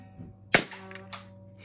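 A cheap plastic toy Uzi fires with a sharp electronic crack followed by a few quick buzzy pulses over a steady low hum, close and brief.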